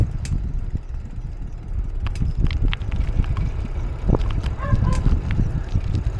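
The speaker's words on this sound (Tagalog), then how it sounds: "Medyo malakas nga lang yung hangin ha." Strong wind on a tobacco farm in Kumamoto, Japan, buffets the microphone with rumbling gusts throughout, joined by scattered knocks and faint distant sounds.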